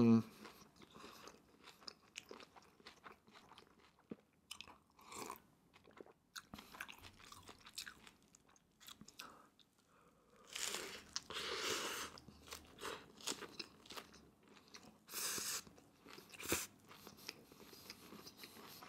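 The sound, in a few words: eating a crunchy Doritos taco from Taco Bell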